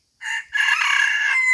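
A junglefowl rooster crows once, loud and close, a short opening note, a brief break, then a long sustained call with no other sound around it.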